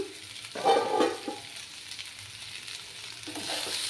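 Potatoes and Tengra fish stirred in a pan as a curry cooks, a soft sizzle with a couple of scraping stirs near the start and again at the end, fairly quiet, no talking.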